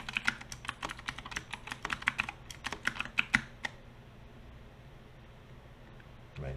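Rapid keystrokes on a computer keyboard as a folder name is typed, a close, busy burst of clicks for about three and a half seconds, then quiet room hiss and a single soft click near the end.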